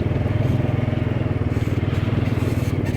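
Motorcycle engines running steadily while riding across a salt flat, a close, loud, continuous rhythmic putter with no gaps.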